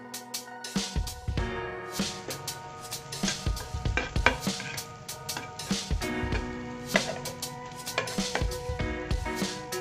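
Egg frying in a pan for restaurant-style Chinese rice, with steady sizzling, scraping and stirring clatter throughout, close and fairly loud with repeated sharp utensil hits.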